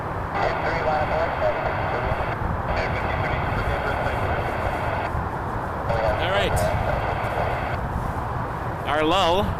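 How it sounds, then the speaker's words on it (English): A Republic Airways Embraer 170 flying as United Express arrives at Toronto Pearson airport in freezing weather, its steady jet engine roar filling the scene while a person talks over it. "Our lull is about to be broken by Republic Airways, Embraer 170 flying for United Express, 3695 coming in from Chicago O'Hare"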